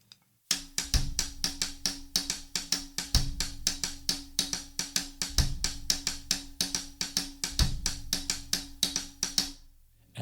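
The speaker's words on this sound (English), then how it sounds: "So my palito pattern with this particular bass drum sounds like this." Palito pattern tapped in steady rapid strokes over a bass drum in 3-2 clave, crisp sharp clicks with deeper thumps recurring every couple of seconds and a low sustained hum underneath, alone with no talk.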